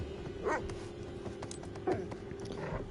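A dog in the horror game The Devil in Me gives two short yelping barks about a second and a half apart, moderately loud over a constant droning ambience.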